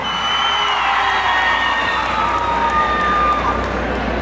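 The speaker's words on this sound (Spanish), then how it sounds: "regálele fuerte el aplauso" A rodeo crowd at a bull-riding tournament claps and cheers in a steady, loud roar that holds throughout, with voices and whoops mixed in.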